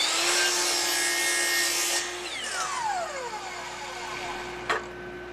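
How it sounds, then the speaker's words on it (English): A compound miter saw set to a 45-degree bevel cuts through wood with a loud, whining motor and a rough rasping bite, then winds down in a falling whine and ends with a brief clack. "set the saw to allow it to cut on a 45-degree bevel"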